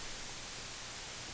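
Steady white noise test signal from a flat-set audio plugin, a broad even hiss filling the whole band, continuous and unchanging for the full length with no talk.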